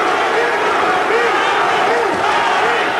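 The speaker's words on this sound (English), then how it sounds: "And the crowd chanting for the truth" Boxing crowd at a 1985 IBF heavyweight title fight between Larry Holmes and Carl Williams, a dense roar of many voices with rising and falling chant-like swells, loud and continuous, with a commentator talking over it.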